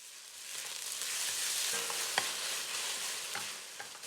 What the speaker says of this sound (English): Add the beef. Cook until brown.